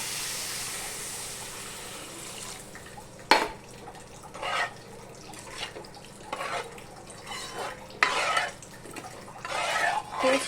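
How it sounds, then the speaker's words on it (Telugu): Water is poured into a cooking pot of spiced mixture in a home kitchen, with several short splashing pours and clinks of the pot under a faint background hum, and no talking. "నీళ్ళు పోసుకుంటున్నాం."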